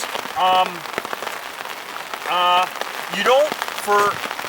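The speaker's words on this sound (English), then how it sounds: "even though it's raining today" Steady rain patters on a surface outdoors, a dense, close hiss that runs throughout while someone talks over it in several short phrases.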